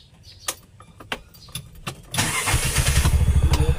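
A Bajaj motor tricycle being repaired is started: a few sharp clicks and cranking noises come first, then the engine catches midway and runs loud and steady, rumbling close by to the end.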